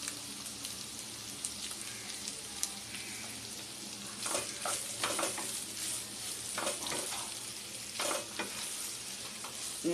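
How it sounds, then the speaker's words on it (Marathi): Potato pieces with ginger and green chili sauté in a hot pan, giving a steady, moderate sizzle with scattered scraping stir strokes that grow busier partway through. "आणि असं चांगलं परतून घेऊया."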